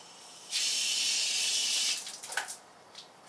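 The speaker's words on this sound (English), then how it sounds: "Thank God for running water." Water gushes from a tap in a brief, bright hissing stream, then cuts off, leaving a few splashes and drips.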